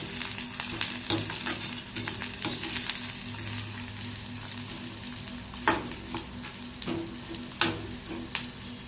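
Ginger, garlic and green chillies sauté in a pan for coconut milk rice, giving a constant soft sizzle broken by sharp scraping stirs at irregular intervals, close up and with no voices.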